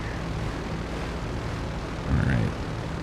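Engines of an Airbus A400M Atlas military transport plane in GTA 5 make a steady droning hum, with a brief louder swell near the end and no talking.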